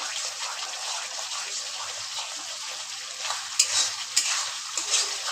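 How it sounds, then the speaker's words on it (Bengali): Masala spices for a desi-style chicken gravy frying in a pan while being stirred, a dense close sizzle with scraping spatula strokes and a few sharper clatters near the end, no voices. "এবার ভালো করে কষাতে হবে মশলাটাকে, যেন মশলার কাঁচা গন্ধ না থাকে"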